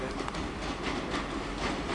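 A Virgin passenger train on the West Coast Main Line pulls into Stockport station with a steady rolling rumble and clickety-clack of wheels over rail joints, continuous and fairly close.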